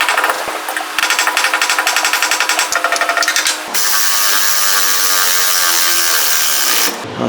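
Muffler clamp bolts on a 2004 Dodge Ram 5.9 Cummins MBRP 4-inch exhaust being driven down by a power tool, a loud rapid hammering rattle that shifts into a steady high whirring buzz before stopping abruptly.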